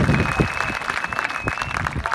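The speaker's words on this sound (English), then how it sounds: "Give them a round of applause." Applause for student speakers at an education talk, a short burst of crowd clapping mixed with murmuring voices and a steady high tone running through.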